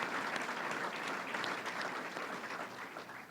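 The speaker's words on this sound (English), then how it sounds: "And now that's a good point for applause right there." An audience applauds after an announcement about making a state fair greener, a continuous even wash of clapping that sounds somewhat distant and fairly quiet, with no talking.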